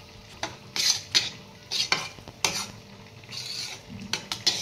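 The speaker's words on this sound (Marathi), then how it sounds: "तीळ व्यवस्थित यामध्ये मिक्स करायचंय" A spatula scrapes and clatters against a pan while sesame seeds are stirred into melted sugar for crisp til papdi, a series of close metallic scrapes and knocks at uneven intervals over a faint sizzle, no talking.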